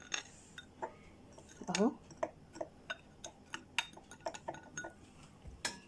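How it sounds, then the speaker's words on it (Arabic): A metal spoon presses a layer of kunafa down into a cup, giving light scattered clinks and taps against the cup while a voice speaks briefly. "ونحاول نضغطها بالمعلقة كده"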